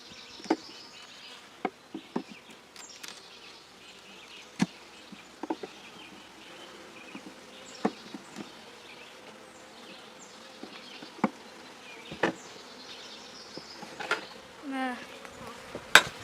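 Bees buzz around a small hive box, a faint, continuous drone with sharp clicks and knocks from handling the box scattered throughout, and a louder buzz passing close near the end.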